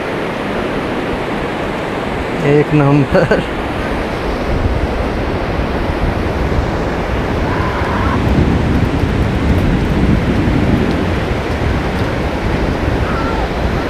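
Sea waves washing onto Nagaon beach: a loud, steady roar of surf with gusty wind buffeting the microphone, and brief voices talking near the start.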